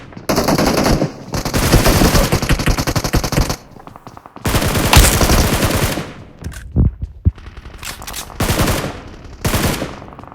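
Rapid automatic gunfire bursts in the mobile battle royale game BGMI (PUBG), loud and close, with several long sustained volleys broken by short pauses and a few isolated shots.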